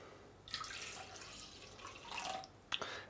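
Two deciliters of lukewarm water poured into a bowl of beignet batter ingredients, coming as two short, soft splashing bursts close by with no talk.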